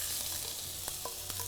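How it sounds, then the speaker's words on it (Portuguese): Onion and bell pepper stir-frying together in a very hot wok, a steady sizzle with a few soft stirring scrapes and clicks, close and moderately loud with no one talking. "A cebola e o pimentão eu vou colocar junto porque o tempo de cozimento deles são parecidos."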